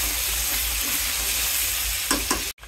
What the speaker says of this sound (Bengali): মাথাটা লাল করে ভেজে নেব